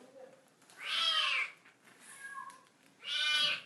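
A cat meows twice, two drawn-out cries a couple of seconds apart, fairly close, with quieter voices and faint sounds in between.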